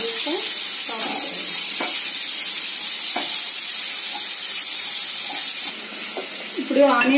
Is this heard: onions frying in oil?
yes